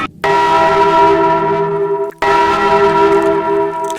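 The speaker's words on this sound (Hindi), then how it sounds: "मंदिर की सारी घंटियां एक साथ बज उठी" Temple bells struck together, two loud ringing strikes each sustaining a bright metallic tone with layered overtones, the second following after a brief break.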